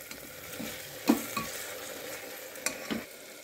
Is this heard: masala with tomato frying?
yes